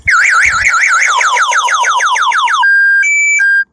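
A loud electronic security alarm on a DIY electric scooter cycles through rapid warbling wails, then fast chirps, ending in steady alternating beeps, all close and continuous.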